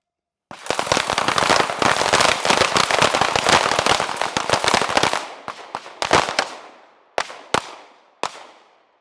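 Rapid handgun fire during a shooting drill: a dense run of loud, sharp cracks for several seconds, then a few spaced single shots with ringing decay, close and with no voices.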